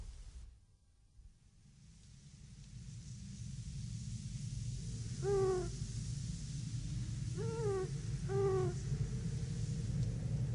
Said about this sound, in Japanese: フクロウが鳴いてるんだ。